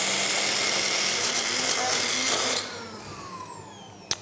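A kitchen blender whirs loudly, blending thickening powder into a triple chocolate pudding mixture, a steady motor drone that winds down and spins out partway through, followed by a brief clunk.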